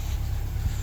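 A cheap barn-find classic Mini that has been sitting for a while, its engine idling at around 1,000 rpm with a low, steady rumble heard close up in a short burst, with no talking.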